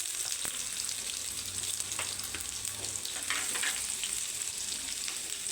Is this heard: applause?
no